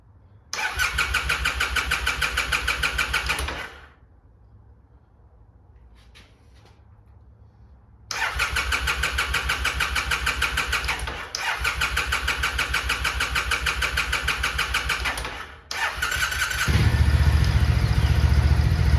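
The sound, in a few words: motorcycle engine starting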